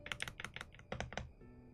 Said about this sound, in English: you hear the clicking of the key of the mouse and the keyboard